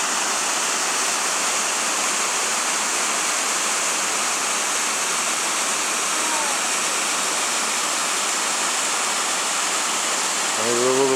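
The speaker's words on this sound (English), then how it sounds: "Yes, beautiful waterfall." A waterfall at Steele Creek Park, a loud, steady, close rush of falling water filling the whole clip, with a faint voice briefly rising near the end.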